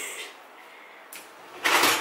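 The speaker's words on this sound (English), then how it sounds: "And closing all the doors." Household doors being shut, including a dishwasher door in a home kitchen with a baby helping: a soft thud near the start, a brief knock around the middle, then a louder, fuller closing bang near the end, all close by.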